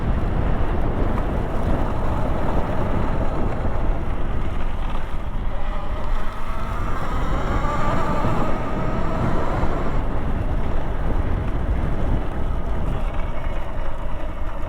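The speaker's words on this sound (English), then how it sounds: "Riding in this long grass." Electric bike fitted with an ASI BAC8000 controller pushing through long grass, giving a steady, loud broadband rush of wind buffeting and rustling with no pauses or talk.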